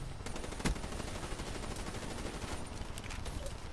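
Gunfire in the video game Black Ops 3 as the player is shot from the side: steady rattling shots with a sharp louder crack early on, continuing as dense shooting at moderate level.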